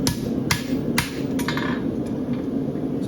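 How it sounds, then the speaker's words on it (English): A farrier hammers a steel horseshoe into shape with sharp metal strikes roughly every half second, about four clear ringing blows that then fade to softer taps, close up with no talking. "now take my hammer and kind of close that up"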